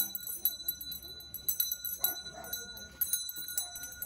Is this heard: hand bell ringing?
yes